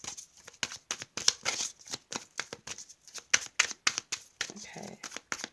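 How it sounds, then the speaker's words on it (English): Tarot cards being shuffled over and over in quick, papery riffling bursts, close and steady, with a faint voice underneath. "I'm just going to shuffle one more card and then we're done"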